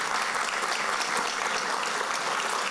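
Audience applause for schoolchildren and teachers at a public fair event, a brief burst of even, dense clapping heard at a moderate distance.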